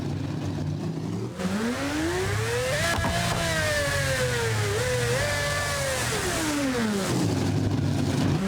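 Pagani Zonda accelerating hard in the BeamNG Drive driving game, a loud engine note climbing steadily in pitch through several gear shifts, dipping briefly and rising again before falling away near the end, with no talk.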